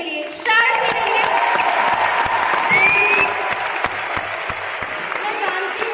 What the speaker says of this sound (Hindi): मैं एक बार जोरदार तालियां चाहती हूँ